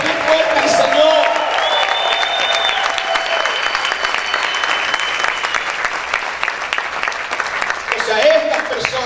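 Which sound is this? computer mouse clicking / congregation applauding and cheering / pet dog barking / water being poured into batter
congregation applauding and cheering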